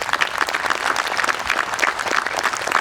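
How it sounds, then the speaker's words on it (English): Graduation ceremony crowd applauding for the class of 2021, a continuous mid-level patter of many hands clapping at once, with no talk over it. "So again, a round of applause, as Dave had asked."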